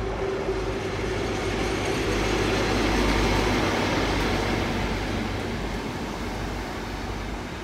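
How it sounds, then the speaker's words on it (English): A CrossCountry HST with class 43 power cars rumbles through Exeter St Davids station, its loud, steady engine drone and low rolling noise filling the whole stretch and easing slightly toward the end. "This is operated by a HST, a cross-country HST."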